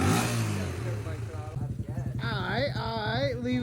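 A 250cc motorcycle engine runs through a new muffler, a low throbbing idle with quick pulses that rise into a short rev, close by, with a voice talking over it.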